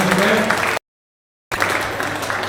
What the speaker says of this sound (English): we'll take a round of applause then for Michael